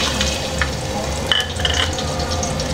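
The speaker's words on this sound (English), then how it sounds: "I'll add all the whole spices like the whole red chilies, ginger," Whole red chilies, ginger and garlic dropped into hot oil in a pan for mutton yakhni biryani, a loud continuous sizzle and crackle with a few soft stirring knocks, no voices.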